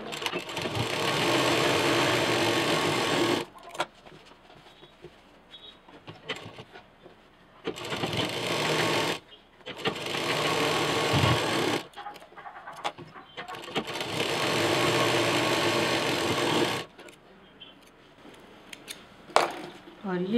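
A sewing machine stitches fabric for a potli drawstring bag in several bursts of steady whirring, each a few seconds long, separated by quiet pauses with small handling noises, close and moderately loud.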